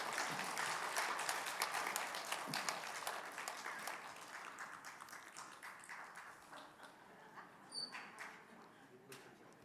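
A church audience at a men's fellowship dedication service claps in dense applause that gradually thins into scattered individual claps, with faint voices underneath.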